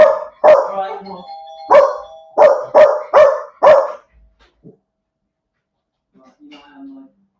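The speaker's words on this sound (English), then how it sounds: "can you just come and quieten the dog?" A dog barks indoors in a loud, close burst of about seven sharp barks with a short pause after the first few, then falls quiet apart from a faint voice at the end.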